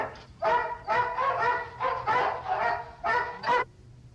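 A human voice imitates a barking dog, giving about seven loud, harmonic yaps in an uneven run, close and alone with no other talk.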